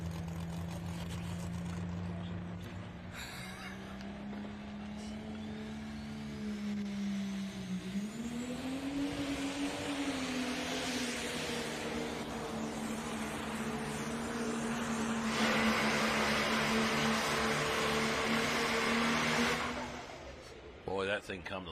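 A single-charger pulling tractor roars at full throttle during an NTPA truck and tractor pull at Bowling Green, a sustained droning engine that rises in pitch and intensity before cutting off near the end, with a voice talking over it.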